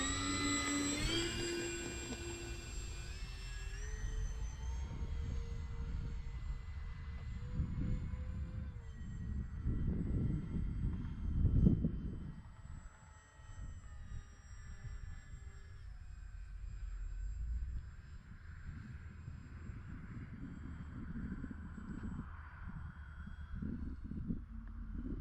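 Avios BushMule RC airplane taking off, its electric motor whining in a steady rising and falling drone with a loud surge midway, close to the microphone throughout.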